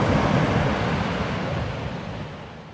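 Calm afternoon sea at Cabungaoan Beach: a steady, broad wash of surf rolling in, with a light wind rumble, gradually easing toward the end. No voices.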